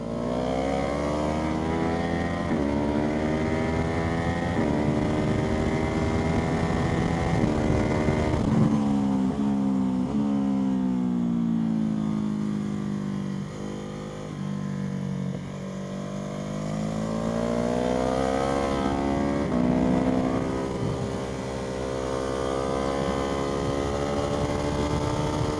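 Onboard a Ducati Hypermotard lapping Donington Park on a trackday, the engine howls loud and close, revs climbing and falling through gear changes with a brief dip mid-lap before pulling hard again.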